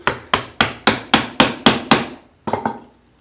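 A mallet drives a chisel to carve out wood along a marked line. Eight loud, evenly spaced knocks sound up close, then a short pause, then three quicker, softer taps.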